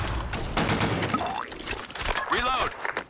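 Gunshots from the BlackShot online shooter game, sharp rapid bursts up close in the first half, with people talking over the firing.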